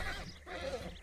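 A horse in a video game gives a short neigh, a quavering whinny that rises and falls for about a second. It sits at moderate level over a steady game background, with no talk.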